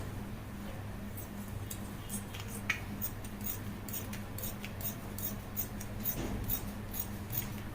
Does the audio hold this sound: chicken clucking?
no